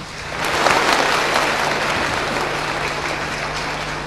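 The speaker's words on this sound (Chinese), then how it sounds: "我们掌声欢迎他们三位上场。" An audience at a Yue opera awards ceremony breaks into dense, sustained applause as three best-newcomer contestants come on stage, a loud, steady wash of many hands clapping that swells early and then holds.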